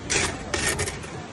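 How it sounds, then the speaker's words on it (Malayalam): Ice being grated by hand for ice orathi, two close rasping scrapes in quick succession with no talk. "ഞങ്ങളുടെ ആദ്യം ഐസ് ഇങ്ങനെ ഉരയ്ക്കും"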